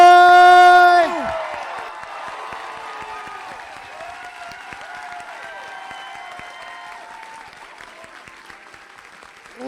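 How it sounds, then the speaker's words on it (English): A crowd at a Classic Tetris World Championship applauds a player after a game. Loud music cuts off after the first second, then a sustained, moderate wash of clapping and cheering continues, fading slightly toward the end. "everybody, give a round of applause to Bat"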